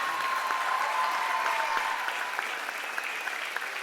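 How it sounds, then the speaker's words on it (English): An audience at a school annual day celebration gives sustained applause for the performing children; the clapping is dense and even, with a faint steady tone beneath it. "I think they all need a good round of applause from all of you."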